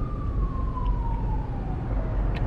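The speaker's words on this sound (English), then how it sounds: "Where is that siren coming from?" A single long siren tone slowly falls in pitch, fairly faint and distant over a steady low rumble of traffic.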